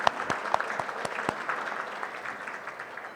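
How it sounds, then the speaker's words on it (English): An audience at a retirement banquet applauds, with dense steady clapping and a few sharper individual claps throughout, moderately loud and unbroken. "That deserves an applause."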